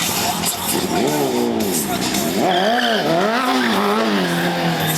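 A BMW S1000RR motorcycle slides around at a stunt show, its tire squealing loudly in long wavering, rising and falling tones over the engine's roar.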